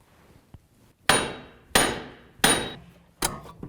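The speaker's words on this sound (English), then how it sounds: "I'm just going to hit the actual hub on the outside, back and forth, until it breaks free from the knuckle" Hammer blows against a 2005-2009 Subaru Outback wheel hub to break it free from the steering knuckle: one light tap, then four loud, ringing metallic strikes about two-thirds of a second apart, close and with no talking.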